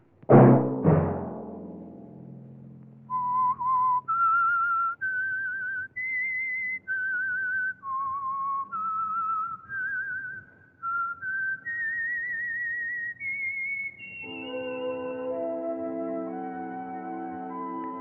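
A lone whistler carries a tune note by note, clear and close, with bright sustained tones rising and falling before a soft instrumental chord swells underneath.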